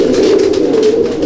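Pigeons coo in a low, throaty burble at a Halisahar loft housing Andhra and Madrasi breeds, loud and close, a brief rolling call with no speech.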